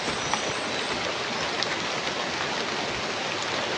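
Heavy rain falls in a steady, dense hiss across the whole stretch, loud and close, with no voices over it.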